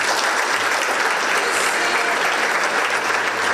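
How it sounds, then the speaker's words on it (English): Sustained applause from a large audience for the mayor at a city event in Richland, Washington, steady and dense clapping throughout with no one speaking over it. "So let's give Mayor Gary a wonderful round of applause."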